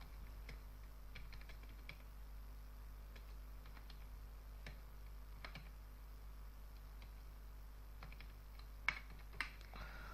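Light, fast keystrokes on a computer keyboard while entering values into an Excel sheet, quiet and steady over a low background hum, with two louder key clicks near the end.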